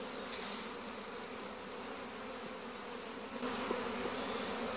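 A continuous, faint drone of many honeybees on a hive frame holds steady, swelling slightly near the end.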